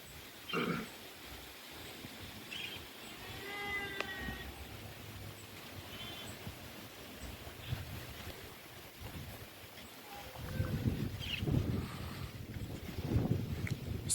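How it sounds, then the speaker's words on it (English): Strong wind sweeps across an outdoor farm in Jamaica, a steady rushing roar buffeting the microphone with heavier gusts near the end and a brief high call early on; no one speaks. "So the wind is actually very strong"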